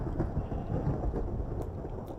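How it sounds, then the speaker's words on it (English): A thunderstorm in the Minecraft video game, with a steady wash of heavy rain and low rumbling thunder rolling continuously through the short stretch. "Nice thunderstorm."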